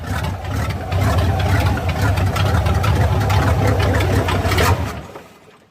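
A car engine, the car nicknamed a Lamborghetto, rumbles loudly up close, running at a rough, steady idle for several seconds before cutting out and fading to quiet.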